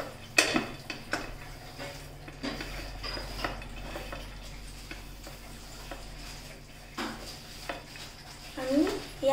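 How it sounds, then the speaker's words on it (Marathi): Poppy seeds and dry fruits being stirred in a pan over a low flame for date barfi, with scraping and clinking of a utensil against the pan in irregular strokes, fairly close and moderately quiet. "आणि या सगळ्यांना छानसं मिक्स करून घेऊ"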